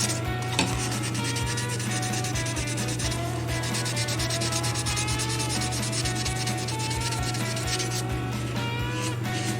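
Sandpaper rubbing over a primed resin garage-kit body of a 1/12 Mazda 787B model, a continuous close scratchy scrubbing in rapid back-and-forth strokes with a steady low hum underneath.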